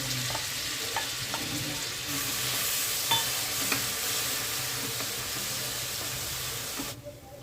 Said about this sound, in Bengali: খুব সুন্দর একটা গাওয়া ঘিয়ে চিংড়ি মাছ ভাজার পেঁয়াজের গন্ধ উঠেছে।